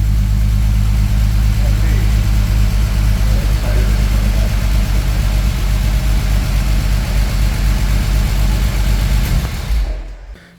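A modified BMW M52 engine with a partly stock exhaust idles steadily and a little unevenly with a deep low rumble, then cuts off near the end.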